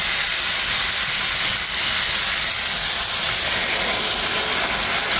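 Hot water poured into a pan of spiced shol fish curry, sizzling and hissing in a loud, steady roar from start to finish.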